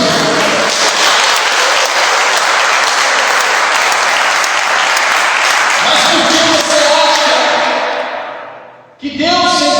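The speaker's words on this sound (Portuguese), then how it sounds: "Você pode aplaudir o Senhor por isso?" A church congregation applauds continuously and loudly for about nine seconds in a dense, steady wash of claps, then the sound cuts off abruptly.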